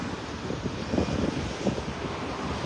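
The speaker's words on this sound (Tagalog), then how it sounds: "Mahangin na." Steady wind buffets the microphone in a low, rushing roar with soft gusty swells while fishing, no voices present.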